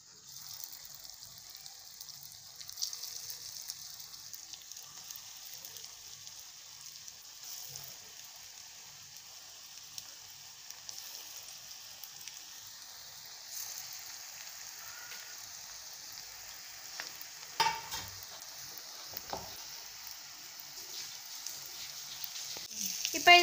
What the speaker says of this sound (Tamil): இப்போ இதில் போட்டு பொரிச்சிடலாம். இப்போ எண்ணெய் நல்லா காஞ்சிடுச்சு.